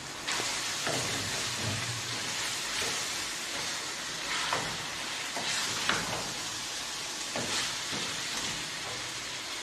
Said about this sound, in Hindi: बंद गोभी को भी बारीक काट लें और उसको ऑयल में डाल कर भूनना शुरू कर दें।